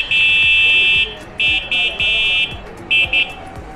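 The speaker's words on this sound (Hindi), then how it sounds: "इसके अंदर हॉर्न भी है" An electronic horn on an Emotorad EMX electric bicycle beeps in short, high-pitched bursts of varying length, some close together, over faint background noise and soft thumps.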